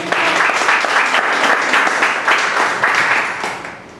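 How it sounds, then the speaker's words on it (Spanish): Loud, sustained applause from a large church congregation, continuous clapping that swells and holds before tapering slightly at the end. "Dale un aplauso al Señor."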